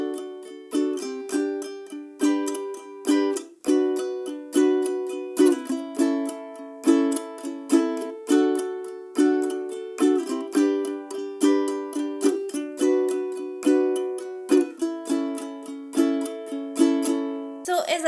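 Ukulele down strums with accents play a steady, rhythmic pattern for a song, each bright strum ringing clearly and alone with regular accented beats throughout.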